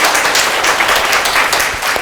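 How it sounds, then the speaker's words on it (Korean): Steady, loud audience clapping fills a science lecture hall in Daegu, thanking the researchers who volunteered, a dense even patter of many hands with no voices over it. "박수로 부탁드릴게요."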